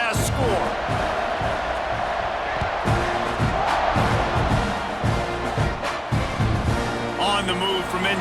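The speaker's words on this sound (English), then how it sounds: "this crowd is buzzing after that last score" A stadium crowd in the EA Sports College Football 26 video game buzzes steadily after a score, a dense continuous roar of cheering with scattered whoops and thuds, heard under a commentator's voice.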